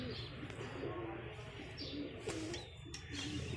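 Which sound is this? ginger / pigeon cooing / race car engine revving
pigeon cooing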